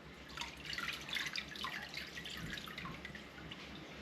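A rennet and water mixture pours into a pot of warm milk just off the burner, giving a soft, continuous watery trickle and splash that stays faint and close throughout.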